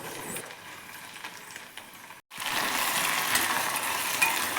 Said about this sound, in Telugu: 2-3 నిమిషాలు బాగా ఫ్రై చేయండి కొత్తిమీరని